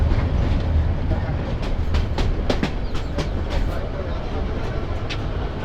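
The Haor Express passenger train from Mohanganj to Dhaka rumbles along the rails in Bangladesh, a loud continuous roar with scattered metallic clicks and clacks.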